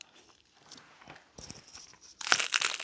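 A close, crisp crunch as teeth bite into a Taco Bell crunchy taco shell, with soft rustling first and a sharp bite burst near the end.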